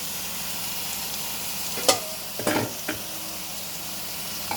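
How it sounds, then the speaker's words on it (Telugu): Country chicken pieces being stirred with masala in a hot pan, a soft continuous sizzle broken by a few sharp scraping clicks of the spoon, fairly quiet and close. "ఈ ముక్కలకి తగిలేంత వరకు మనం కలుపుకుందాం."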